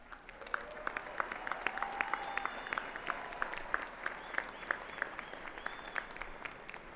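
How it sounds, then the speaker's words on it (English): Steady audience applause fills a university commencement ceremony, many hands clapping in a dense, even patter at moderate distance, with a few faint voices underneath. "Let us recognize the achievements of these students with another round of applause."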